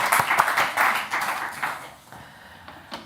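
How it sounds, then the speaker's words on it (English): Audience at a conference on water systems and climate change gives a round of applause, dense clapping that is loudest at first, thins after a couple of seconds and fades to a few scattered claps. "let's give you a round of applause"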